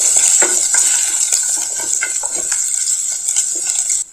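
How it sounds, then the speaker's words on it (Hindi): Curry leaves and grated ginger stirred in a pan for masala vermicelli, with a steady hiss of frying under repeated scraping and clinking of a spoon against metal, close and fairly loud. "अब हम सारी चीजों को इस प्रकार से मिक्स कर देते हैं।"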